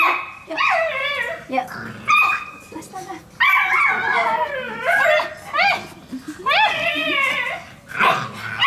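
Pitbull puppies bark and yip in a lively indoor scene, repeated short high barks and whiny cries in bursts over several seconds, with a person talking in between.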